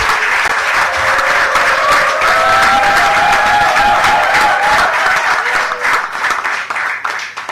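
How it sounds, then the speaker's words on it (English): An audience at a memorial lecture for a late Prime Minister breaks into loud, sustained applause with scattered cheers, the clapping holding strong before tapering off near the end. "let us all give a round of applause to this comrade"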